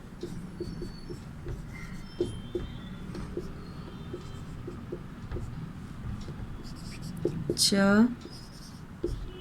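Hindi letters being written on a board, soft scratchy strokes under a teacher's steady talk, ending with a short squeaky stroke near the end.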